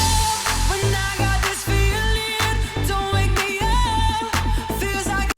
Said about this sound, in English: The first and by far the most common is a plucky bass